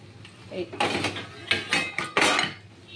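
A spoon pokes and scrapes among pieces of chilli cauliflower in a pan or dish, giving several short clinking and scraping knocks in quick succession, close and fairly loud, with faint background noise.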